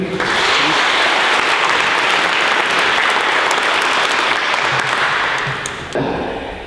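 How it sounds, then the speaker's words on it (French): Wedding guests break into loud, sustained applause, a thick burst of many hands that holds steady for about six seconds before tapering off. "On l'applaudit."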